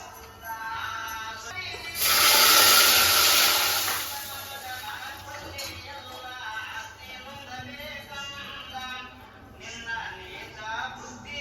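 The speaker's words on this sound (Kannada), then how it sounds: "ಅದು ಬೆಲ್ಲದ ನೀರು ಹಾಕಬೇಕು ಇವಾಗ ಅದರಲ್ಲಿ." Jaggery water poured into a hot pan bursts into a loud hissing sizzle lasting about two seconds, then fades into a softer bubbling while a person keeps talking throughout.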